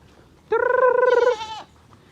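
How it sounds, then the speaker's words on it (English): A billy goat on a backyard farm in Jamaica lets out a single loud, close, wavering bleat lasting about a second, alone against a quiet background. "Billy goat number 1."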